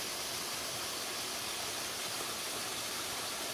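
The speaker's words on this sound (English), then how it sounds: "I can hear the waterfall though." Steady rushing hiss of a mountain waterfall in Cyprus, continuous broadband noise heard at a moderate distance without voices.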